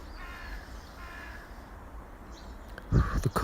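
Crow cawing outdoors, a few rough caws near the end over a steady background hiss, fairly close and clear.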